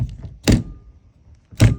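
A Volkswagen windscreen wiper arm clacks against the car body: two sharp, close knocks roughly a second apart, with a faint tap or two in between.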